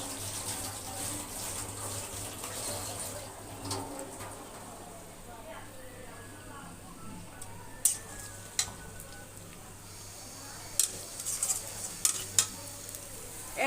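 Onions fry in oil in a wok on a stove, a soft, steady sizzle kept low in the background, broken later by a few sharp clinks and scrapes of a utensil.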